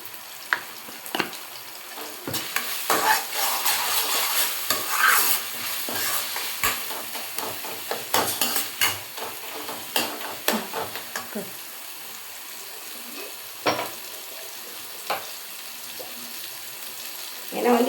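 Quail pieces with turmeric sizzle and fry in a home kitchen pan while a spoon stirs and scrapes in irregular bursts, steady crackling throughout, fairly close.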